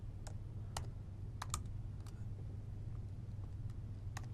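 Python code is tapped out on a computer keyboard in sparse, scattered keystrokes, faint over a low steady hum with no talking.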